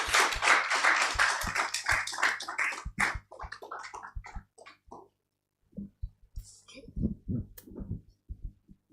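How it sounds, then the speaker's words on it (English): Applause from an insurance conference audience for a panel moderator starts out as scattered clapping, thins to a few isolated claps, and dies away into silence. A few more separate claps and soft thuds follow near the end. "Please make the applause very loud because I almost left him out."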